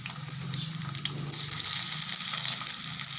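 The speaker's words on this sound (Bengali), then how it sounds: "পেঁয়াজ কুচি দিলাম পরিমাণ মতো" Chopped onions in oil in a wok (kadai) make a soft, steady sizzle with a faint watery crackle, moderately quiet and uninterrupted, with no one talking.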